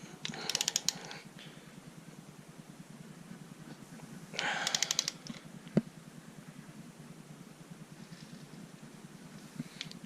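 A torque wrench tightens a bolt to 37 foot-pounds, giving two quick runs of light ratcheting clicks a few seconds apart, then a single sharp click, all faint against a low background hum.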